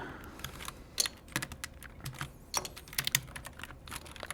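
Keycaps being pulled off a KC84 mechanical keyboard, a series of sharp plastic clicks and snaps at an irregular pace, close and fairly quiet, with no talking.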